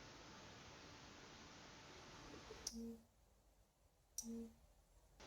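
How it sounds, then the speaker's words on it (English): A SONOFF RE5V1C 5V relay module, powered from an Arduino board, switches twice, giving two short, crisp clicks about a second and a half apart over a faint steady hiss. "You can hear the relay clicking the switch."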